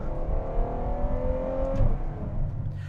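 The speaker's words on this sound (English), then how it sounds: "Listen to those downshifts." Ferrari 812 Superfast V12 engine droning in a steady tone, then dropping sharply in pitch as it downshifts, loud and close inside the car with no talk.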